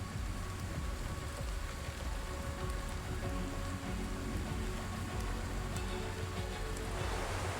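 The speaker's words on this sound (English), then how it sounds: "Wild monsoons lash the jungles of Madagascar." Heavy monsoon rain pours steadily over the jungles of Madagascar, a dense, continuous hiss of drops on foliage and surfaces with no break, close and enveloping throughout.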